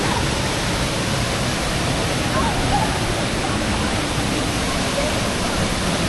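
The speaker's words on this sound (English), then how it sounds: "Sauniatu waterfall." Sauniatu waterfall pours in a steady, loud, dense roar of rushing water that fills the whole stretch without a break.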